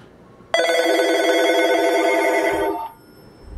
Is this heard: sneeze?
no